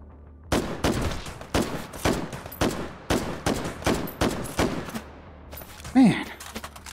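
Repeated bursts of gunfire from a VR shooter in Hot Dogs, Horseshoes & Hand Grenades, with about nine sharp shots in an uneven rhythm over several seconds and a short louder thud near the end.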